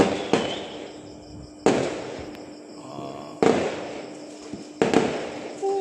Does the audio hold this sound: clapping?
no